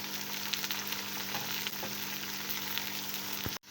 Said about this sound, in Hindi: प्याज ऐड करने के बाद हम इसको मज़ीद अच्छी तरह से भून लेंगे।